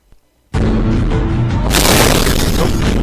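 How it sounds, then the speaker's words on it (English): A terrorist bombing explosion heard in news footage, a sudden loud boom that bursts in after near silence and holds as a dense, rumbling roar, growing brighter and harsher partway through. "Terrorist bombing, all the smoke."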